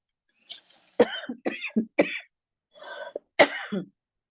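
A person still recovering from pneumonia coughs in short, harsh bursts, around five or six close coughs with brief pauses and some throat clearing, in an otherwise quiet room.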